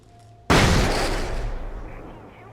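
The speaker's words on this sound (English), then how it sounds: "So that's a flashbang" A flashbang grenade bursts in Alan Wake with one sudden, loud bang after a quiet moment, followed by a long, slowly fading rumbling tail.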